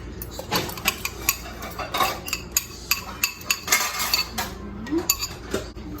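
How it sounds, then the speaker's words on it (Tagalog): A spoon stirs melted butter into warm milk in a bowl for cheese pandesal, with repeated close clinks and scrapes of metal against the bowl in an uneven rhythm. "i-mix natin yung melted butter natin sa ating warm milk."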